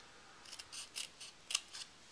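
Scissors snip through paper for a Valentine craft project, a quick series of crisp, close cuts in a short rhythmic run.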